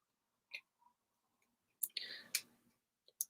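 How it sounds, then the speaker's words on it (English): Small hand snips cut through thin craft wire during felt flower making, giving a few sharp, isolated snaps and clicks spaced apart in an otherwise quiet room. "See if these snips will cut through it."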